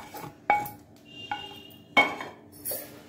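Fried cucumber pieces spooned from a pan into a mixer jar, several sharp metallic clinks and knocks of utensil on steel, spaced apart with quiet gaps between them.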